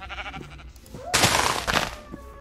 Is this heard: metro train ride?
no